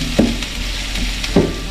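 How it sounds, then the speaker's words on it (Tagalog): Garlic, ginger and onion sautéing in a pan, a dense continuous sizzle broken by two brief scraping stirs about a second apart. "Gisa na natin ating bawang sibuyas tsaka luya."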